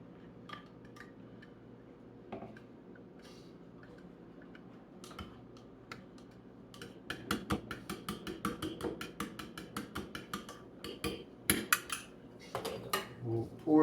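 Melted butter and buttermilk are mixed in a bowl, starting with light scattered clinks, then turning into a quick run of utensil taps and scrapes against the bowl, close and fairly loud.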